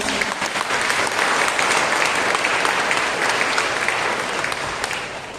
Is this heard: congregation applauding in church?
yes